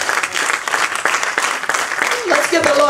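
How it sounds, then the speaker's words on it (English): A church congregation claps for the Lord in a dense, loud burst of applause, with voices mixed in beneath the clapping. "Give the Lord a hand clap."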